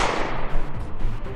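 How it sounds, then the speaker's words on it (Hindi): Rapid gunfire rings out on a street during a Delhi Police encounter in Rohini, a dense burst of loud, overlapping shots with no clear gaps between them. "ताबड़तोड़ फायरिंग, गोलियों की आवाजें"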